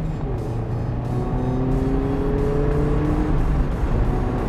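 A Mazda MX-5 RF engine drones steadily while driving, a close, continuous hum with gentle rises in pitch as it accelerates through the gears.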